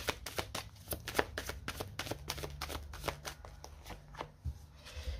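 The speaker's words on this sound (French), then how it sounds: "on va poser une carte du romantique tarot, célibataire" Tarot cards shuffled and laid down, a quiet run of crisp flicks and soft taps close by, with no talk over them.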